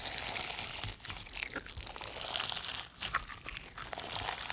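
Crunchy lava rock slime is squished and kneaded up close, giving dense, continuous crackling and crunching with brief pauses between squeezes.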